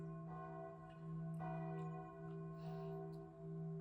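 A church bell rings softly at a distance with a steady sustained hum and a few faint repeated strikes, calm and quiet with no talk.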